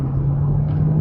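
Sprinter van accelerating on the road, heard from inside as a loud, steady low engine drone with road rumble throughout.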